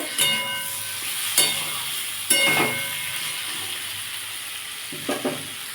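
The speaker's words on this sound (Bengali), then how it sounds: "একটু জিরে গুঁড়ো আর একটু লঙ্কা গুঁড়ো দিয়ে বন্ধুরা এটা ভালো করে একটু কষিয়ে নেব" Chicken sizzles and fries with cumin and chili powder in a pan, a bright constant crackle broken by a few sharp stirring clatters.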